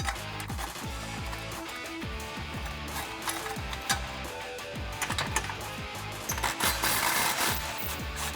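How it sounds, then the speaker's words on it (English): An impact gun with a 13mm socket loosens two exhaust clamps on the mid pipe of a 2011-2014 Mustang GT, giving repeated bursts of rapid mechanical hammering with a buzzing, rattling rhythm that stays fairly steady throughout. "So now I'm going to take my 13mm on my impact gun. I'm going to loosen up these 2 clamps here to remove our mid pipe."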